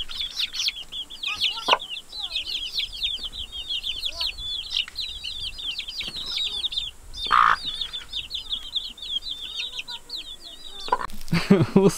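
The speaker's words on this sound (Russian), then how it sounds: "Цыпленок залез просто поближе, посмотреть, что я там показываю" A chick clucks and peeps close by in a garden beside foundation rebar work, short bursts repeating over steady bird chirping, with a few louder sounds near the end.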